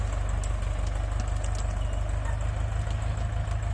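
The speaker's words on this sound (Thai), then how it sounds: "ต้องใช้โลซีครับในรอบเครื่องต่ำๆครับไปเรื่อยๆ ครับ" A Ford 6640 tractor engine runs steadily at low revs while digging a cassava field with old rubber tree stumps, a constant loud low rumble with no break.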